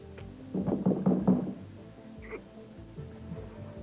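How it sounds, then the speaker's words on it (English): A quick run of about six knocks on a door, muffled and moderately near, followed by quiet room tone with a faint tap or two. "And that knock will go away."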